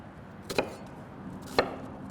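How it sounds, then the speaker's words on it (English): A knife roughly chopping vegetables for enchilada sauce on a board, with two distinct close chops about a second apart over a quiet background. "you can kind of just give it a rough chop because it's going into the blender"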